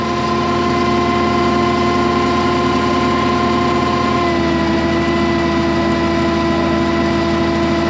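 A John Deere tractor with a 540E PTO idles at low RPM, a steady, close, continuous engine drone with a constant hum and no voices.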